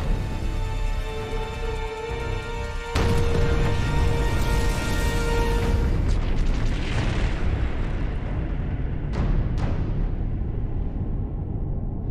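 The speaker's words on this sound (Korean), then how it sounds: "사호기에서 엄청난 대폭발이 일어나면서" A massive explosion sound effect for the Chernobyl nuclear reactor blast bursts into a sustained roaring rumble over a droning tone, followed by two later sharp cracks, loud and without voices.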